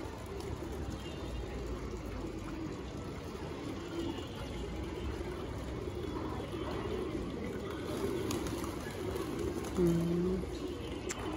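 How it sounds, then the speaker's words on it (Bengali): Pigeons flying over a rooftop loft, with soft cooing under a steady outdoor ambience and a brief clearer call near the end. "কত সুন্দর উড়ে কবুতর!"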